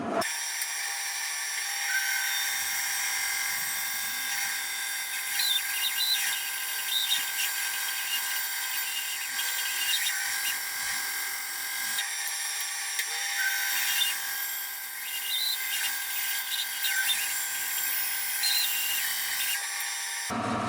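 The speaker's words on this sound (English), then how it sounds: "So let's cut the leg" A power saw cuts a tapered wooden leg for a Shaker side table in a workshop, a loud, steady high whine running continuously with two short pauses as the blade engages the wood.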